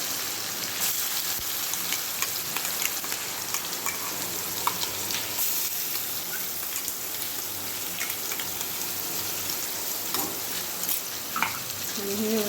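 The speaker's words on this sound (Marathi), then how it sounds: "व्यवस्थित हलवून घेऊया व्यवस्थित मिक्स करायचे आता हे दोन मिनटं आपण अजून परतून घेऊया" Solapur-style chilli masala with garlic and coriander being stirred and fried in a pan, a steady close crackling sizzle with scraping stir strokes running throughout, no talking.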